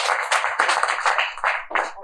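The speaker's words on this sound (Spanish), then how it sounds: "Un aplauso, por favor, para Barry." Audience applause at a live birding talk on Neotropical mixed flocks, a dense burst of clapping across the whole clip, moderately loud and close, with no speech over it.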